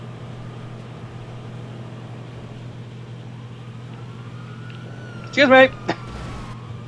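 Police sirens in Grand Theft Auto V wail faintly under a steady engine and background hum, with a short shouted voice near the end.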